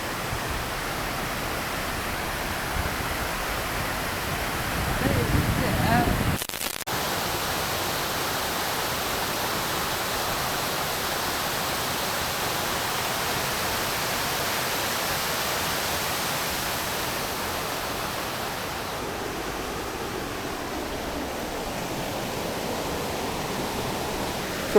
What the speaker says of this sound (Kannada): nice water falls